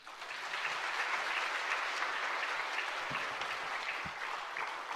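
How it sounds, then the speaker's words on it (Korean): Sustained, dense applause from a church congregation welcoming a speaker fills the space steadily for several seconds, with a few low thumps near the end. "나오실 때 우리 큰 박수로 환영하겠습니다"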